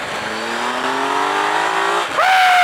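A 2018 Triumph Tiger 1200 XCa motorcycle accelerating hard uphill, its engine note climbing steadily in pitch, then briefly dropping at a gearshift before surging again louder and higher, close and continuous with steady wind roar behind.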